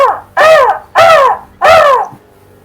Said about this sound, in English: You hear this raven.